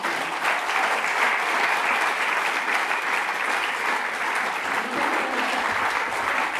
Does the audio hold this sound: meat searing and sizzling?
no